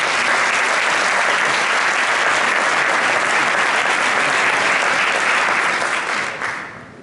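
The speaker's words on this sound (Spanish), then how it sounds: "Voy a pediros un aplauso para nuestro primer interventor." Sustained audience applause at a book presentation, a dense, loud roar of many clapping hands that holds steady for several seconds before tapering off at the end.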